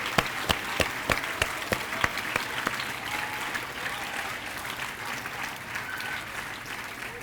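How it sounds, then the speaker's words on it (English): Applause at a school investiture ceremony for student council leaders: a crowd claps for several seconds, with sharp individual claps standing out at first before settling into a dense, even patter. "So let's give them all a huge round of applause."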